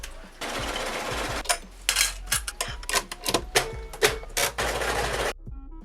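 Sewing machine stitching sleeves onto a dress, running in several bursts of fast rhythmic stitching with short pauses between, close and loud, with no talking.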